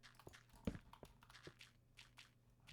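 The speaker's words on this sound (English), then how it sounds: "I'm hearing footsteps." Footsteps sound in a Minecraft-style survival game, a series of soft irregular steps spread over a few seconds, faint and quiet with no talking.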